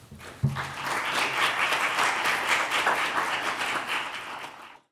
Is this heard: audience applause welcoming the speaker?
yes